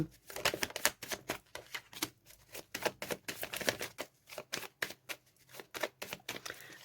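Oracle cards being shuffled and drawn for a reading, heard as a rapid string of crisp, close paper snaps and flicks in an irregular rhythm, with no talking.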